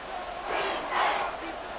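A stadium crowd roaring during the fourth quarter of a close football game, a dense swelling cheer that peaks briefly and holds, with a voice over it.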